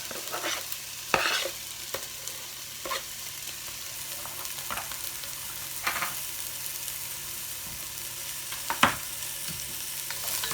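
Garlic fries in oil in a big soup pot for red lentil, chickpea and vegetable soup, giving a steady bright sizzle with occasional scraping stirs heard close.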